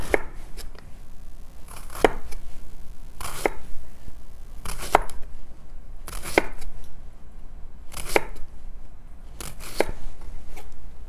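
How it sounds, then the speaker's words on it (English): A knife thinly slices red onion on a board, with about seven sharp chopping strokes at a fairly even pace, close and distinct over a low background hum. "And then I'm going to take some red onion, and I want this cut very thin."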